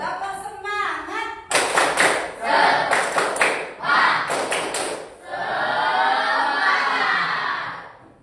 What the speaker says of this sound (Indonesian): Tapi yang semangat tepuk tangannya ya.